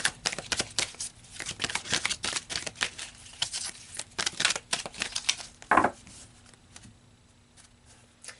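Tarot cards shuffled by hand in rapid, irregular bursts of crisp riffling and slapping, close and clear, with a single sharper snap near the end before the shuffling fades out.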